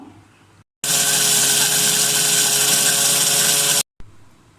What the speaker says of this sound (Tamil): இதே மிக்சியில் இப்போ அடிச்சுட்டு வந்துடுவோம்